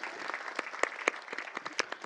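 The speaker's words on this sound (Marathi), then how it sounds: "सोमनाथ भाऊंसाठी टाळ्या वाजूया." An audience at a temple festival gathering for a Bhagavat katha claps steadily, a dense, even patter of many hands with brief sharper claps standing out, fairly close and without talk.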